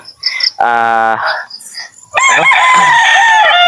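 Chicken vocalizations from a hen sitting on eggs to hatch chicks, with loud, close harsh squawks and crowing-like calls, one sustained call then a longer strained call near the end.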